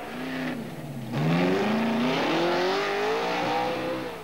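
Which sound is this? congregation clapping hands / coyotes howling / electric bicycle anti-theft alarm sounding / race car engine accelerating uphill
race car engine accelerating uphill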